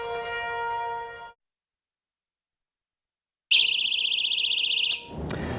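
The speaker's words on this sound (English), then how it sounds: "That's the sound of the Birdie personal safety alarm" A Birdie personal safety alarm sounding, a loud piercing electronic shriek that starts after a silent gap, holds steady for about a second and a half and then cuts off abruptly.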